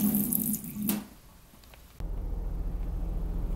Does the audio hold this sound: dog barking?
no